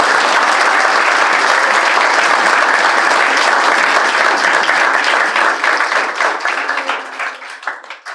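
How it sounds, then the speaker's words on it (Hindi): An audience at a theatre performance of Premchand's Eidgah applauds the children, a dense, loud, sustained wash of clapping that thins and tapers off toward the end. "सबसे पहले तो हम इन बच्चों के लिए ताली बजाएंगे"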